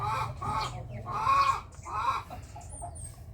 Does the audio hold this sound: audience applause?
no